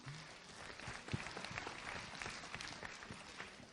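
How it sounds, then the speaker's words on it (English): An audience at a school quiz event breaks into a steady round of applause, dense, even clapping from a crowd, moderately distant and without speech. "A huge round of applause for him as well."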